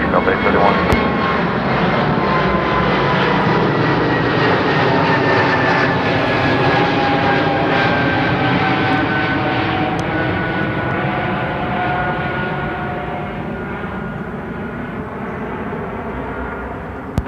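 A jet airliner takes off from Seattle-Tacoma International Airport, its engine roar loud and sustained for the whole stretch with a slowly shifting whine, the noise fading only slightly toward the end.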